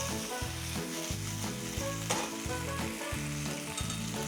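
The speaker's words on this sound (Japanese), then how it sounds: "だから少しベーコンここで炒めて油出してあげる。" Bacon fries in a pan to render its fat for a café-style ketchup Napolitan pasta, a bright crackling sizzle running continuously beneath rhythmic background music.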